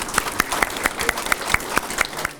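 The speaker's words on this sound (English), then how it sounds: "So give a round of applause for them all." Applause rises from an audience at a Treaty 1 community event, with one set of nearby hands clapping loudly in a steady, even rhythm over a softer background of clapping.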